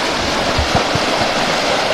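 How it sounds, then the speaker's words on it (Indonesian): Spring water pouring from its source and joining a river at a historic site in Indonesia: a loud, steady rush of flowing water with low gurgling splashes, close and continuous, no talking. "Jadi ini sumber mata airnya, teman-teman. Jadi satu dengan"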